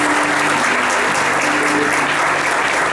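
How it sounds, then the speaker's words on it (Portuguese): A church congregation gives Jesus a round of applause, a loud, steady wash of many hands clapping at close range without a break. "Uma salva de palmas para Jesus"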